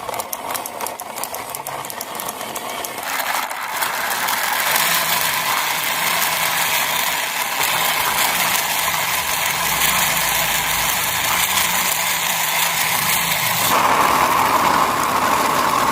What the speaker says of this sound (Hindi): चलिए इसको भी चला के देखते हैं कैसा लगता है